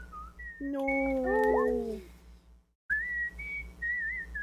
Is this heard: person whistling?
yes